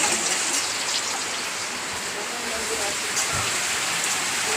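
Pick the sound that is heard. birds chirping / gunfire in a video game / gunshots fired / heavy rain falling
heavy rain falling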